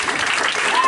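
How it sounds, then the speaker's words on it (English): Brief burst of audience applause at a stand-up comedy event hosted by the Kenosha Creative Space, a dense wash of clapping heard close and fairly loud. "Give a round of applause to the Kenosha Creative Space for hosting this amazing event."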